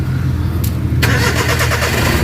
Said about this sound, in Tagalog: start natin makina